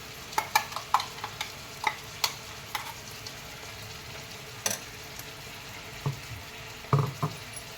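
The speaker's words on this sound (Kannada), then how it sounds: "ರುಬ್ಬಿಟ್ಟಿರೋ ಮಸಾಲೆನ ಹಾಕ್ಕೊತಾ ಇದ್ದೀನಿ." Ground masala paste for a chilli chicken is added to a hot pan and stirred, giving scattered scraping clinks of a spoon against the pan over a soft, steady sizzle, with no voices.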